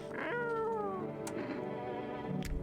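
A cat meows in the video game No I'm Not A Human: one drawn-out, falling meow near the start, then a quieter tail with a couple of short clicks, fairly close and loud with no talking.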